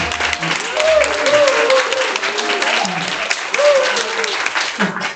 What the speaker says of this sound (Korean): 그래서 햇빛마을 주간보호센터 박민주 센터장님을 두고 박수를 한번 환영해 주세요.